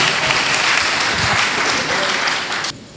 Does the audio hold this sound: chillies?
no